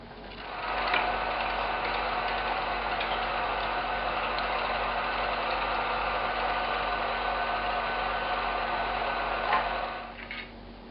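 A meat grinder runs steadily, churning meat through a second pass with a constant mechanical whir and faint ratcheting, held at even level for about ten seconds before winding down near the end.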